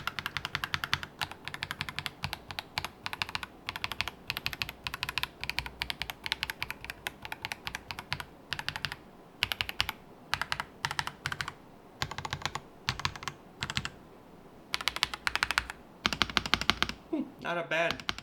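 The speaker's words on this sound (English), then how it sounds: "now we're just gonna test out what the keys sound like a little bit" Keys on a Womier WK60 60% wireless mechanical gaming keyboard, Kanagawa Edition, clatter in rapid, dense bursts of crisp clicks and thocks, close and loud, with brief pauses between runs of typing.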